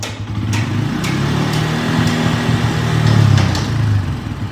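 A car engine bogs down and stumbles under acceleration, a close, loud, uneven engine drone that rises and sags with faint clicks and no talk over it.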